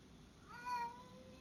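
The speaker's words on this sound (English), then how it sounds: "Oh, that's my cat." A house cat gives one soft, short meow, faint and rising then falling, over a quiet room hum.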